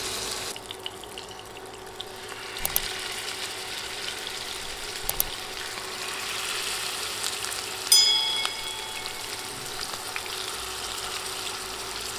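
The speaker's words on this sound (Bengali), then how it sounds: "তেল ভালোভাবে গরম হলে মাছের পিসগুলো দিয়ে দিচ্ছি।" Pieces of fish frying in oil heated on a high flame, with a steady close hiss throughout and a brief louder crackle burst near the end.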